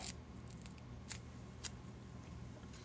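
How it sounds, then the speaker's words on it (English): Scissors snip a half-inch strip in half and then in half again, two short crisp cuts separated by a pause, faint and close in a quiet room. "Go ahead and cut that in half. Then I'm going to cut it again in half."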